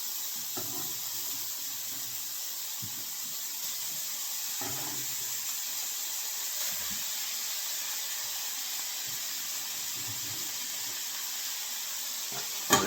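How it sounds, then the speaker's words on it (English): Chopped bacon fries in a pan with a faint, steady hiss and soft, scattered pops and crackles, and nobody speaks. "We're gonna let our bacon cook down"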